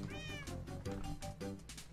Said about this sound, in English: You stupid cat, don't you dare meow at me again